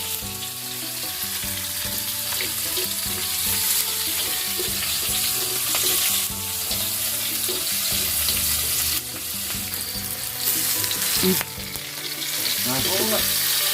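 Shallots and garlic stir-fry in a hot pan with a steady, loud sizzle, broken by scraping and clacking of a utensil stirring in an uneven rhythm, no voices.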